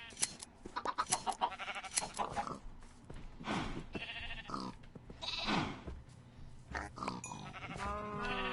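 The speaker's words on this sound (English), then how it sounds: "half the reason I was over here was to shear some sheep" Sheep bleating in the Minecraft video game, several wavering, nasal bleats repeating close by in irregular bursts, overlapping one another with a few grunting animal sounds mixed in, and no talking.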